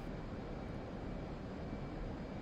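A video-game F/A-18 Hornet jet aircraft, a steady low roar of engine noise, continuous and even throughout, moderately quiet with no voices.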